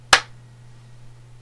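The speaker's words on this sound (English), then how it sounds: "Let me clap real quick." A single sharp hand clap rings out near and loud at the start, then only a steady low electrical hum remains with no talking.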